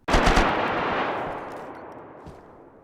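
In the video game DayZ, a loud, close burst of rapid automatic gunfire is followed by a long echoing decay that fades over a couple of seconds.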